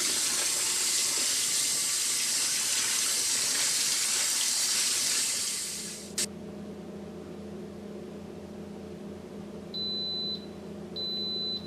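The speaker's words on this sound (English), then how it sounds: "When the water runs clear, the rice has been rinsed." Tap water runs steadily into a sink while rice is rinsed to remove surface starch for rice with pigeon peas and pork spareribs, a loud broadband rush for about six seconds that stops abruptly, leaving a quiet hum and two short electronic beeps.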